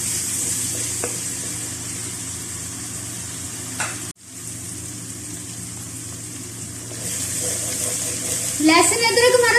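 Garlic and ginger sizzle in hot oil in a karahi and are stirred, giving a continuous frying hiss with occasional scraping, followed by a short pause and a voice coming in near the end.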